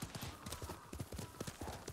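Horse hooves clip-clopping in the Ghost of Tsushima video game on PS4, a quick steady rhythm of close hoofbeats at a trot, faint and continuous for the whole moment.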